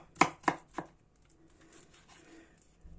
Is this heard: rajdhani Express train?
no